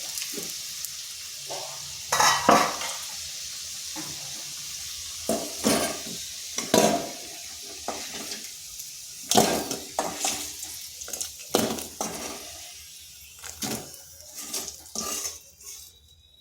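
Potatoes for a vegetarian aloo dum fry in a pan with a steady close sizzle, while a utensil stirs them in repeated scraping, clattering strokes against the metal. No one speaks.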